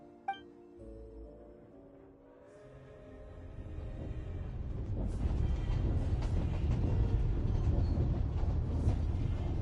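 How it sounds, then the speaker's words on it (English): In the video game Genshin Impact, a train starts with a short clank, then a low rumble of rolling wheels builds steadily and holds as a loud, continuous roar. "The train will be escorted to its destination by Fatui."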